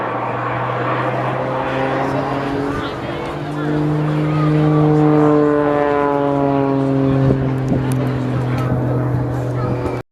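An aerobatic aircraft flies at the English Riviera Airshow, its loud propeller engine droning with a steady tone that rises and falls as it passes. A commentator talks over the sound.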